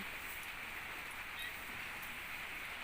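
Rain falling steadily outdoors, a constant even hiss of drops with no pauses.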